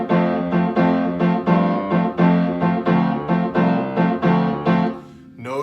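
Piano playing a song with both hands together: steady, evenly pulsed chords with a busier right-hand line, close and clear, ending on a fading final chord.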